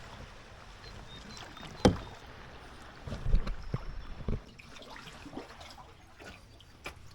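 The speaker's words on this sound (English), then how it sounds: "not the first time I'm paddling down this river, La Vézère" Canoe paddling on the river La Vézère: quiet water swishes and a few sharper paddle knocks and splashes, with one strong thump near the start and a cluster of strokes midway, over a soft wash of flowing water.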